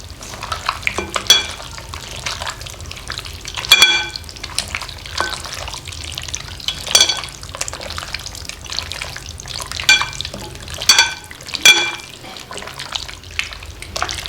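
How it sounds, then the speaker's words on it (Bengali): Mutton being mixed by hand with salt, turmeric, mustard oil and yogurt, giving wet squelching and slapping sounds in irregular bursts, close up and moderately loud, with no talking. "লবণ সর্ষের তেল আর টক দই এবার আমি মেখে নেবো"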